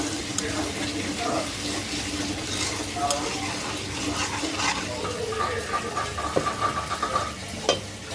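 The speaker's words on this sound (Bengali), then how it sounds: "ভাজা হয়ে গেছে এখন পানি দিবে" Water is poured onto fried spice paste in a pan while cooking shrimp bhuna, a continuous sizzle and splashing hiss with stirring clinks and a few sharp taps, close and steady, with faint talk underneath.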